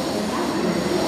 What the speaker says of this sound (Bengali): এইমাত্র ট্রেনটা দিল আমাদের হাওড়া স্টেশনের 9 নম্বর প্ল্যাটফর্মে